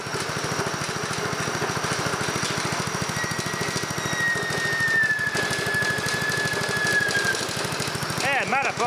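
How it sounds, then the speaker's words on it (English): A small engine chugs loudly and continuously while driving a Fisher & Paykel Smart Drive washing-machine motor rigged as a high-voltage generator. A thin electrical whine rises over the rhythmic engine knock and ends in crackling arcs. "this thing does bog the engine down a fair bit at low RPM"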